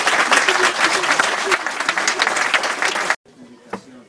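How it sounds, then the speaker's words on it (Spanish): Audience applause ringing out at the close of a university talk, a dense burst of clapping for about three seconds before cutting off abruptly into quiet room tone. "Pues un aplauso a nuestro"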